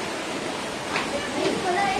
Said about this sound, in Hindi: झरना भी चालू है